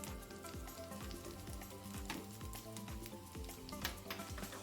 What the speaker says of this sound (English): So accordingly you balance that out and you fry the kebabs